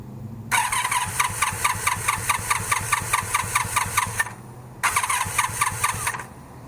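A cafe racer motorcycle engine with a compression tester fitted to one spark plug hole. The starter cranks it in a long run of rapid, even pulses, pauses briefly, then cranks again in a second short burst, loud and close.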